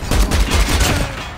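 A loud, close burst of rapid gunfire in a video game, several quick shots merging into a short fusillade that ends abruptly.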